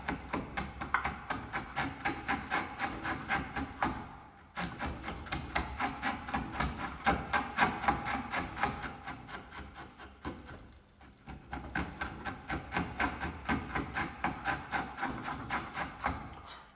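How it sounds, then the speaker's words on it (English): A chisel pares across timber, guided by saw cuts, in steady repeated rasping strokes with short pauses near four and eleven seconds; the scraping is close and moderately quiet with no talking. "we're going to pare in the timber"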